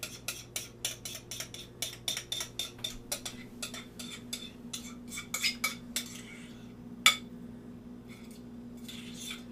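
A spoon scrapes cheesecake mixture out of a bowl with a quick run of short, sharp clinks and taps, close by, then a few sparser scrapes and one louder knock toward the end, over a low steady hum.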